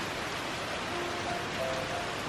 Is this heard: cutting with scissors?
no